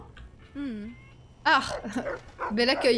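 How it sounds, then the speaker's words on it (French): Rex, a dog in Fallout New Vegas, gives short whimpering barks and yelps in bursts, interleaved with someone speaking over him. "Et arrête, aboie pas! Aboie pas!"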